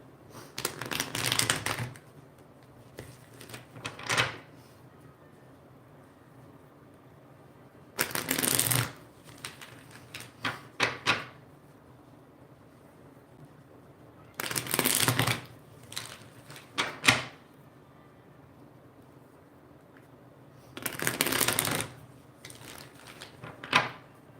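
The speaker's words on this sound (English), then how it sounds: "I'll sit here and shuffle the deck until somebody chimes in" A tarot deck shuffled by hand in four separate bursts of crisp riffling card noise, each lasting a second or two, with quiet pauses between them and no talking.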